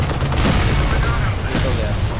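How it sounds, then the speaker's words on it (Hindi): An artillery weapon fires in the war game Frontlines: Fuel of War amid dense, continuous battlefield gunfire and booms, loud and close, with a voice talking over it. "ये आर्टिलरी वेपन है"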